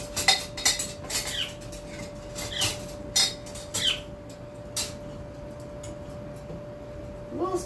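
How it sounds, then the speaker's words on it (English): A slotted spoon stirs dumpling dough for blueberry grunt in a bowl, giving irregular close clinks and scrapes against the bowl, louder in short bursts and then quieter, with no talking. "I'm going to get these dumplings mixed. I'm going to use that little spoon that has the holes in it"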